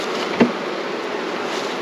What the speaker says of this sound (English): And there's the bees busy at work.